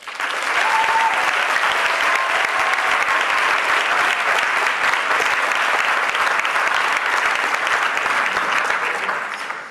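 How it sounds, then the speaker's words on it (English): Sustained, even applause from an Auburn University 2015 SGA debate audience welcoming the candidates onstage, a full crowd clapping continuously and loudly before tapering off at the very end. "Give them a warm round of applause."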